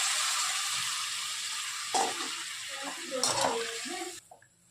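Potato and pointed gourd curry sautéing in a pan, a continuous bright sizzle with a few stirring scrapes and clinks of a utensil, before the sizzle cuts off abruptly near the end.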